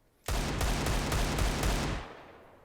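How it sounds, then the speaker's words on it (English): Desert Eagle pistol fire in CS:GO: a quick run of loud, close shots lasting under two seconds, then a fading echo tail. "you can even start pre-firing or just spamming the Deagle away and getting those body shots through"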